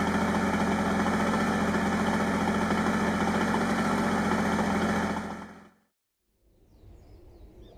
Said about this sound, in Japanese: 実際に走行できるかっていう確認で鳴らし運転ですね